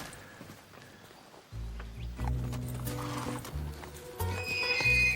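A thoroughbred horse whinnying, with hooves clopping nearby; a loud neigh rises from a quiet start and continues over the hoofbeats.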